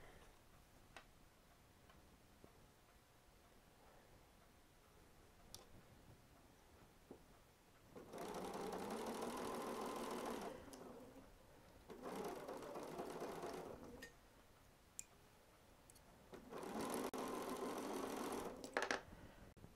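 A sewing machine stitching through thick quilt layers and seams runs in three steady bursts of rapid mechanical whirring, separated by quiet pauses with faint ticks, fairly close and with no voices.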